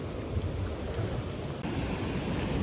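Ocean waves wash over small rocks on a beach in El Salvador, a steady loud roar of surf mixed with wind buffeting the microphone.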